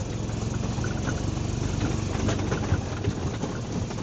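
A golf cart with newly replaced rear shocks rolls along on a test ride, giving a steady low rumble mixed with constant rattling and road noise and no voices.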